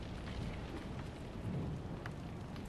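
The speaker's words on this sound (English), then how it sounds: "The storm's coming." An approaching thunderstorm in the video game Ghost of Tsushima, with a constant wash of rain and low rumbling thunder, steady and fairly quiet, with no one talking.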